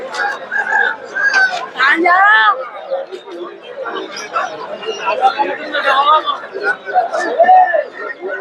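A busy bustle at Erragadda market, Hyderabad: many people chatter while chickens cluck and roosters crow close by.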